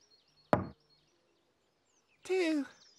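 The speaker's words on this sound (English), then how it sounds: "Tinky-Winky, knock a door!" A single loud knock on a door sounds in a children's television episode, followed after a pause by a short spoken voice.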